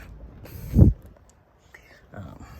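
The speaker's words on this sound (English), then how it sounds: "Try to open the door without hitting the car next to me" A 2021 Haval H6 car door unlatches with a mechanical clunk and a short creak, followed by softer shuffling and a second faint click.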